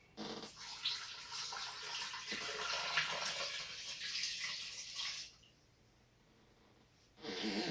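Cold water gushes steadily from a tap into a container for several seconds, stops briefly, then starts flowing again.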